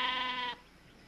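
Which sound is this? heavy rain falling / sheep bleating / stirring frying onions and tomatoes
sheep bleating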